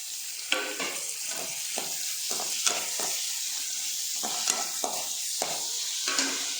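Vegetables and tomatoes sauté in a pan, giving a steady hiss of frying broken by irregular soft scrapes and clinks of a spatula, close and fairly quiet.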